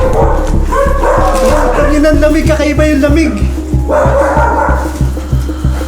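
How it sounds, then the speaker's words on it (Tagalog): A dog barks repeatedly and loudly nearby, with yips and whimpers, while a person talks in Filipino over the barking at an abandoned Mercury Drug factory in Valenzuela. "Ang Lakas ng tahol."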